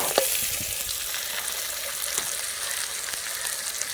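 Crab meat frying in a pan for a village-style crab gravy, a steady loud sizzle with crackling and stirring scrapes throughout.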